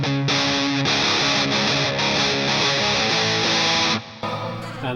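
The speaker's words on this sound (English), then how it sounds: "You can turn the distortion all the way down. It's still heavily overdriven, like heavily distorted, but it is different." Electric guitar played through a distortion pedal set to heavy overdrive, sustained, thick, saturated chords ringing loud and close before cutting off near the end.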